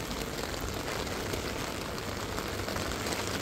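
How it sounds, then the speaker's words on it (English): Steady rain falls, making a dense, even patter that stays constant and moderately quiet throughout with no voices. "Raining, raining."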